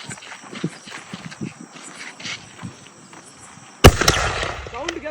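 A Sivakasi jelly firecracker shot bursts loudly near the end, with sharp cracks and crackling sparks, after a stretch of background voices and footsteps outdoors.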